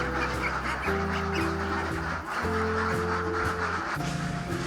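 Ducks in a village pen quack and honk in a thick continuous chorus, mixed with a loud steady droning background that partly covers the calls.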